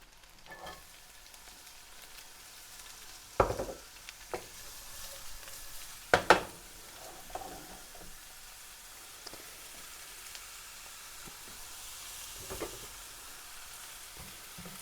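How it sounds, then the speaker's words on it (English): Onions go into a hot pan and fry with a faint, steady sizzle. Several sharper clatters and scrapes of stirring break in along the way, and nobody speaks. "And now the pan should be hot enough for our onions over here."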